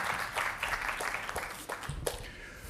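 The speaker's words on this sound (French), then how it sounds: "Voilà, on peut applaudir Marwa Brahim." An audience at an energy-renovation forum for condominium buildings in Paris Terres d'Envol claps faintly in scattered, uneven bursts that fade toward the end.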